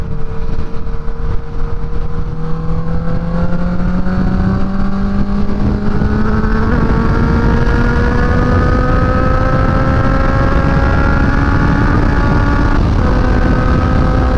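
A small, nimble motor vehicle engine revs steadily and loudly, its pitch climbing gradually over the run with a brief dip near the end, close and continuous with no talk.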